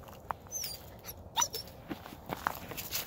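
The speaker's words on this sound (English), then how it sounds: "Excited dog." An excited hunting dog on a Pennsylvania ringneck pheasant hunt at first light whimpers and whines in short, sharp bursts, with rustling footsteps moving close by outdoors.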